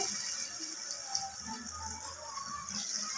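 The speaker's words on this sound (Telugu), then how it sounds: "కొబ్బరి పాలు ఒక గ్లాస్ వచ్చి ఒక గ్లాస్ కొలత వేసుకొని పోసుకోవడమే" Coconut milk poured by the glass into a pot for coconut vegetable bagara rice makes a steady, close liquid stream with soft gurgles throughout.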